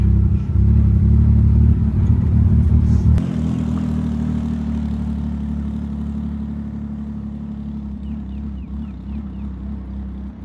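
A crusty Chevrolet Corvair convertible rolls slowly down a driveway, its engine rumbling loudly up close at first, then dropping after a sharp click to a quieter, steady low drone as it coasts, with no talking.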